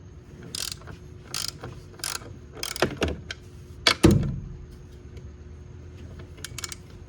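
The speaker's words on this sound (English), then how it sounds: "Use a ratchet." A ratchet clicks in short bursts while turning spark plug bolts on a 2017 BMW 330i F30, several close, quiet rapid ratcheting runs, then a clunk and a few faint scattered clicks.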